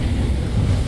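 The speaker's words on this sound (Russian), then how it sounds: "И вот идем по волне, по вот такой мотает." Small fishing boat running over waves on the Irtysh River, a low rumbling drone with wind buffeting the microphone, steady and close throughout this short stretch.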